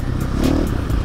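A motocross dirt bike ridden across desert terrain near Dubai, the engine droning loud and close with rhythmic surges, with rattling and scraping from the bike bouncing over the sand.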